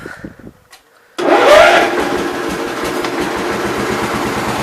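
A 1987 Gravely 12G garden tractor engine turns over and catches abruptly after quiet handling noises, then settles into a loud, steady, rough idle close by.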